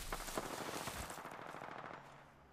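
Automatic weapon fire in Apex Legends, rapid bursts of shots rattling close and loud through most of the moment before tapering off near the end.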